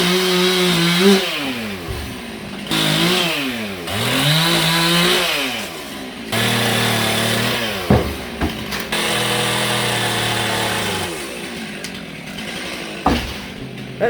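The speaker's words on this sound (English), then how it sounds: "because the chainsaw kept on stopping" A chainsaw prunes a tree, its engine revving and bogging in repeated rising and falling surges, cutting out briefly several times before restarting, loud and close.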